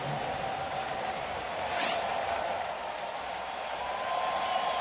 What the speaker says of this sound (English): Crowd cheering as they show the highlights of the Paredes triple down in Houston